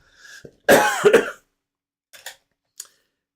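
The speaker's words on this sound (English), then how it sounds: "I'm really sorry about the coughing" A single harsh cough with a throat-clearing rasp, close and loud, followed by two softer, short coughs after a pause.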